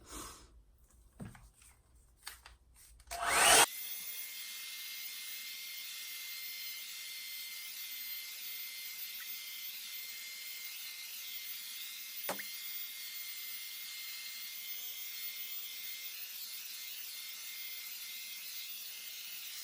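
A Revlon hair dryer and volumizer blowing hair, its steady airy whoosh starting abruptly after a few seconds of quiet handling noises and then running continuously and evenly at a moderate level.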